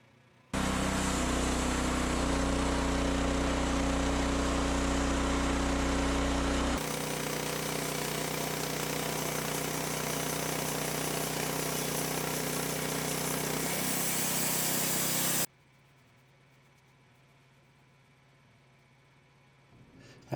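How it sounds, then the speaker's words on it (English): A Woodmizer LX50 Super sawmill cuts a 2-inch slab off a log: a loud, steady, close roar of blade and engine that shifts pitch partway through the pass, then cuts off abruptly into a quiet idle. "So I decided to cut another 2-inch slab off."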